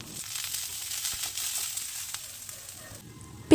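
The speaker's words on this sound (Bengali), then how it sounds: "একটা মিডিয়াম সাইজের পেঁয়াজ কুচি দিয়ে কিছুক্ষণ ভেজে নেব" Chopped medium-sized onion frying in hot white oil in a frying pan, giving a steady close sizzle and crackle throughout, with no talk.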